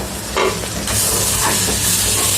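Bombil chutney is stirred in a hot pan, giving a close, continuous sizzle with a few scraping strokes of the spoon and a loud, even hiss.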